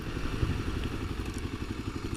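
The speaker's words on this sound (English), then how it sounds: "this engine's really buzzy, vibrates a lot" A 2018 Kawasaki KLX250 dirt bike's single engine runs steadily with a buzzy, vibrating rumble, close and continuous with slight rattly clatter and no talk.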